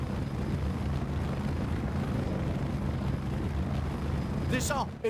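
A helicopter in the Pursuit Force video game drones on in a steady, loud, low rotor and engine roar that continues almost unchanged throughout and ends with a brief burst of sharper noise.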